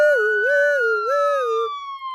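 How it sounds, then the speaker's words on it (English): A wailing siren sweeps up and down in two long cycles, then settles into a single falling tone, loud and close with no talking. "I think I heard some sirens."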